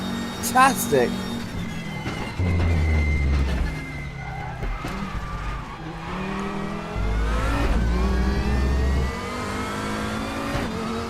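Race car engine in the RaceRoom racing game revs hard through repeated rising and falling surges, with gear changes and occasional tire noise, while someone talks over it.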